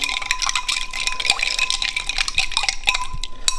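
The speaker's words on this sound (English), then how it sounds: "And then I'll just pour it in." Cold coffee poured into a glass over ice: a close, continuous liquid trickle with scattered small clinks and drips.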